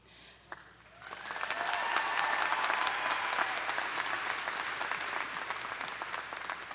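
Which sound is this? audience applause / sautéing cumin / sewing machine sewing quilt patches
audience applause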